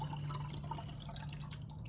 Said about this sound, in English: So what I'm going to do is go ahead and pour it in there so you can see.